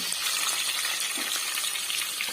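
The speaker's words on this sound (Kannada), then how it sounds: "ಶುಂಠಿ ಬೆಳ್ಳುಳ್ಳಿ ಪೇಸ್ಟ್ ಕೂಡ ಜಜ್ಜಿ ಹಾಕೋತಾ ಇದ್ದೀನಿ, ರುಬ್ಬಿಲ್ಲ. ಈರುಳ್ಳಿ ಫ್ರೈ ಆಗಲಿ." Onion frying in a pan with crushed ginger and garlic, a close, steady crackling sizzle that holds evenly with no voices.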